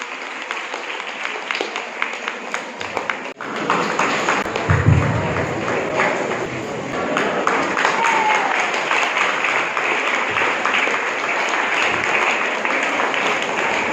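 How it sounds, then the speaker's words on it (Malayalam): At a parish celebration marking the close of a 150-year jubilee in Enganiyoor, Thrissur, a sudden thud gives way to a big, sustained round of applause from the gathered audience, loud and continuous with scattered voices in the crowd. "നിറഞ്ഞ കൈയടി കൊടുക്കാം"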